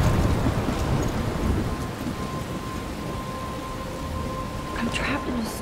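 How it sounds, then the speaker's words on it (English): Steady heavy rain and low rumbling thunder fill a stormy scene in the video game Life Is Strange, a dense continuous wash of storm noise with a faint tonal hum beneath. "I'm trapped in a storm?"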